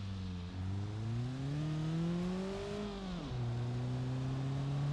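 A Lada car engine in BeamNG.drive revs continuously as it drives toward a jump ramp, pitch climbing through gear changes, then dropping sharply and steadying, loud and close with no voices.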